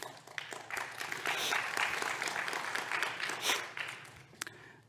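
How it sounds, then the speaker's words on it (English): A conference audience gives a modest round of applause during a technical talk on MSTest, the clapping swelling to a dense patter and then thinning out, with some voices mixed in. "if you want to do a small round of applause for him and his idea."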